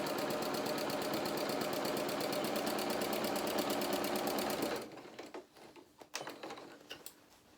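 A sewing machine quilts a vinyl-fronted project bag panel edge to edge, its needle hammering in a fast, steady, close rhythm for almost five seconds before it stops, leaving a few faint clicks and handling sounds.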